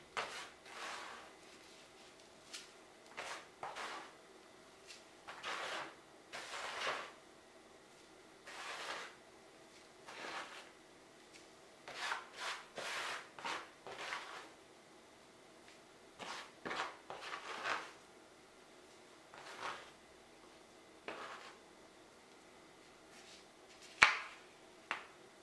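Dried thyme is rubbed through a large, worn colander with big holes, making soft, scattered rustling scrapes in short bursts separated by pauses, close and quiet, with one sharper tap near the end.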